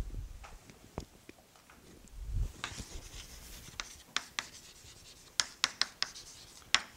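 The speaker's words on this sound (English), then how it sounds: "Let me write this down." Chalk or marker taps and scratches on a board in short, irregular strokes, close and fairly crisp, with a few sharper clicks toward the end and no talking.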